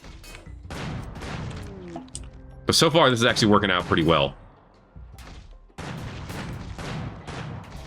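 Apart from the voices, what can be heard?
cannons firing in the video game Rimworld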